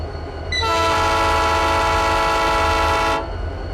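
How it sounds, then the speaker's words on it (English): A GP9 diesel locomotive sounds a single sustained horn blast in a train simulator, a loud chord of steady tones that starts abruptly and cuts off after about two and a half seconds. "GP9 locomotive requesting 1790. So here we go, single horn."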